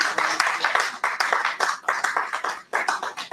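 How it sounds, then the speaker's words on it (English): Audience at a university Founder's Day launch celebration gives the president a big round of applause, dense close clapping that surges and dips in waves throughout. "let's give the president a big hand of applause"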